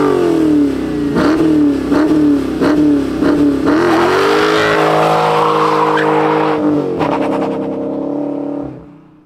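Dodge Challenger Scat Pack V8 doing a tire-smoking burnout: loud pulsing revs build into a sustained high engine wail with screeching, squealing tires, then the revs drop and fade at the end, close and without talk.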